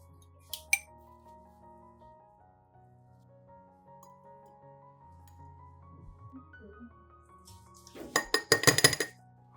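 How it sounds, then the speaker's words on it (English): Soft music plays, then a spoon scrapes and clinks repeatedly against a glass jar while scooping sautéed onions, in a quick cluster of taps near the end. "Scoop the sautéed onions into a glass jar."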